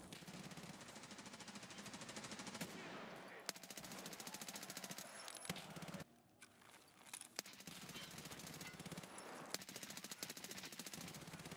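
Rapid automatic gunfire from a weak in-game gun in a video game, a fast steady stream of shots with one short pause partway through, with no talking.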